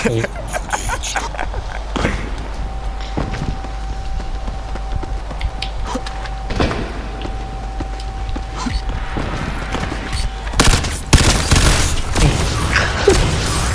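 Video game gunfire cracks out in sharp reports, sparse in the middle and then a dense burst near the end. It sits over a constant noisy bed with a faint steady tone.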